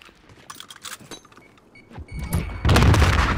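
Rocket fire and explosions in Call of Duty: Modern Warfare: scattered distant thuds and cracks build to a heavy, loud blast that swells into a sustained rumbling roar.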